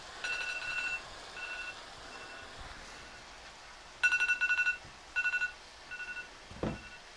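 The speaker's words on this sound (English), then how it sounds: "that was a timer letting me know that 10 minutes are up" A kitchen timer beeps in a home kitchen where lasagna is being made, sounding short bursts of rapid electronic beeps in clustered groups against a quiet background, fairly close.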